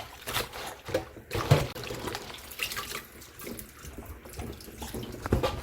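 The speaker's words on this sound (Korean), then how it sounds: "조금만 해서 소금물을 좀 씻어준다는 그런 생각으로 물을 조금만 이렇게 짜박짜박하니 하세요" Salted Dolsan mustard greens being rinsed by hand in a shallow splash of water, with irregular sloshing, trickling and small splashes close by at a steady, modest level.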